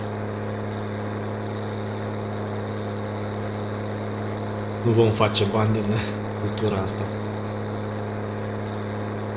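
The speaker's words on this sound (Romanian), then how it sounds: "Poate că tractorul ăsta trage cam destul de greu." A tractor engine drones steadily while pulling a trailer in Farming Simulator 19, a constant low hum with someone briefly talking over it.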